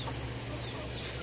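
Faint chickens cluck softly over a steady low hum, a brief murmur of fowl somewhere nearby.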